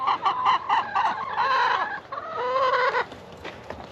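Several backyard homestead chickens cluck and squawk close by in a busy, overlapping chorus, with short excited bursts and a few rising calls, no talking.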